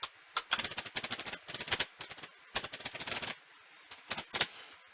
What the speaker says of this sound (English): I need to type it in.